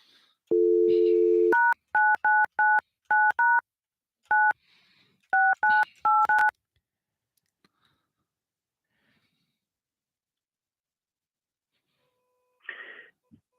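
A phone dials a fishing guide's number: a long keypad tone, then a quick run of clear, loud touch-tone beeps in uneven bursts, followed by silence and a faint distant sound near the end.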